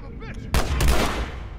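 Gunshot from a firearm in the survival-horror video game The Last of Us Remastered: one sharp, loud blast with a short rumbling tail, preceded by quiet in-game sounds.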